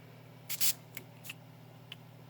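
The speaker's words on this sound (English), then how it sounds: "But there's one spray. Just one spray." A spray bottle of coffee mists onto paper in one short spritz, close and fairly loud, followed by a few faint ticks in a quiet room.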